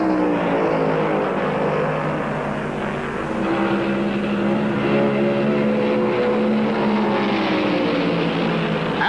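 Stock cars race laps at the 1971 Southern 500, making a steady, loud, continuous engine roar with shifting pitch as the cars pass. It sounds like a dense pack of racing engines.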